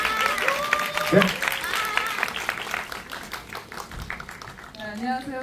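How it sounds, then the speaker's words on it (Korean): Audience applause at a stage greeting for the Korean film 'She Is Dead' in CGV Yeouido, a steady patter of clapping mixed with crowd noise and voices talking over it throughout. "아임님 박수 한번 주시고 감사하겠습니다"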